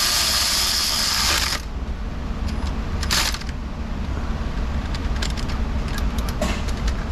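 A socket ratchet clicks on timing cover bolts of a Subaru Forester 2.5, with a burst of hissing noise at the start, then close, irregular ratchet clicks over a steady background hum.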